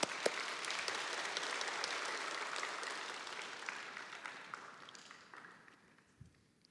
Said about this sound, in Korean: 이때는 하나님께 박수를 칩시다